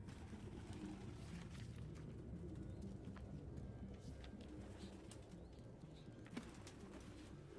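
Pigeons cooing and flapping their wings in a city setting within the Detroit: Become Human video game, a steady low murmur of coos running throughout with an occasional wing burst, moderately close and under faint ambient noise.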